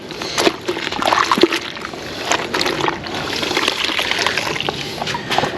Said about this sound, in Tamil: இது வந்து தண்ணி இருக்குது, எவ்வளோ பிழிய முடியுமோ பிழிஞ்சிருங்க.